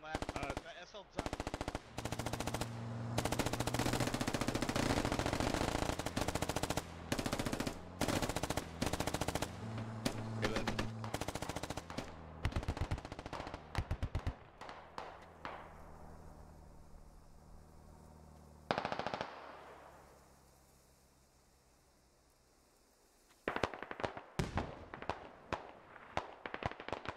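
Sustained bursts of suppressive automatic gunfire in the tactical shooter SquadOps, loud and dense with rapid repeated shots, briefly easing to a quieter lull before more firing resumes near the end.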